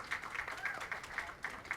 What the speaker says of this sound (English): let's give a giant round of applause to all our panelists today